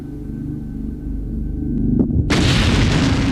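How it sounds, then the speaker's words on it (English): A bomb explosion in an aircraft luggage container test, preceded by a low hum and a small crack, then a sudden loud, broad blast that rumbles on. No speech. "But could glare even stand up to terrorist attack, like these bomb explosions?"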